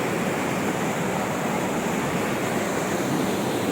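A steady, close wash of river water rushing and churning without pause, a broad hiss with no voices over it.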